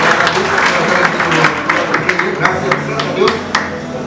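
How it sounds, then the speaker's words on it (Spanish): Audience at a product testimonial event clapping loudly, a sustained round of applause with sharp individual claps and some crowd noise underneath. "Aplauso"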